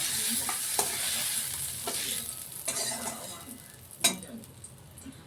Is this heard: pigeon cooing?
no